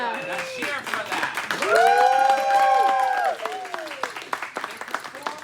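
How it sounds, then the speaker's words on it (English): Keynote audience for a Boise Shakespeare theater company breaks into loud applause and cheering, clapping rattling steadily while whoops and raised voices swell in the middle and then thin out toward the end. "Let's cheer for that."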